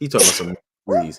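A single short sneeze bursts out, followed by a brief pause and a spoken reply.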